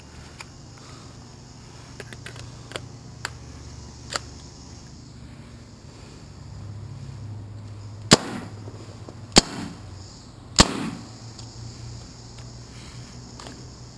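Spyder MR5 magazine-fed paintball marker firing reballs, a handful of sharp isolated pops spaced seconds apart over a low background hum, with a few fainter clicks earlier.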